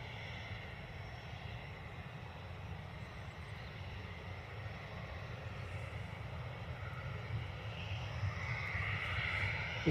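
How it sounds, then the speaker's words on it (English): A Ryanair airliner departs Dublin Airport for Madrid, a broad, distant jet roar that holds steady and slowly swells, with no voices over it. "This Ryanair's off to Madrid."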